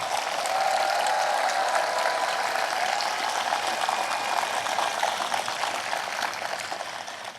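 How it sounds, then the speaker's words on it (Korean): Big, sustained applause from a large crowd at a memorial ceremony for President Roh Moo-hyun, thick and steady throughout and tapering slightly at the end, with no voices. "마음을 다해 큰 박수로 응원 부탁드립니다."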